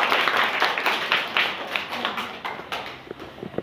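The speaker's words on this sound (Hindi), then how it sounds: "चलो जोरदार ताली खुद के लिए" A classroom of schoolchildren clapping together, a dense, lively patter of many small hands that stays fairly loud and then thins into scattered claps near the end.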